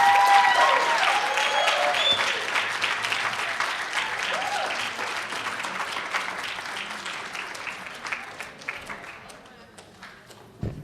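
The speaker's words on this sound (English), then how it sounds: "a big round of applause for Alicia Walker." A crowd applauds after a speech at a college Martin Luther King Jr. read-in event: loud, dense clapping that gradually thins and fades over about ten seconds.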